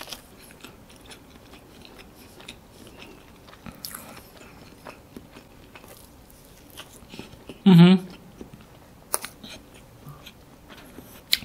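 Someone eats dry chocolate cake from a 7-Eleven in Hat Yai, with a soft close bite and chewing, one brief loud crunchy burst near the middle amid quiet room noise.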